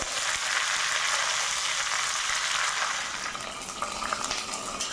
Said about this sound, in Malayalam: കറിവേപ്പില ഇട്ടു.